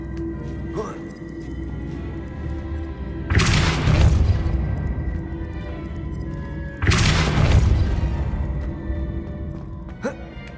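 In Hogwarts Legacy, the Depulso force spell strikes twice with heavy booming impacts, each a loud crashing thud followed by a fading rumble, spaced a few seconds apart.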